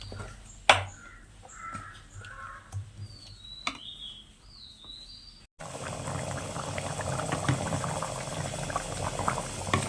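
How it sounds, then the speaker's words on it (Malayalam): A pot of mango pulissery curry bubbles on the stove, a faint simmer at first with a few soft taps and clinks, then a steady, louder boiling hiss through the second half, with no one talking. "മാങ്ങക്കറി നല്ലോണം തിളക്കുന്നുണ്ട്"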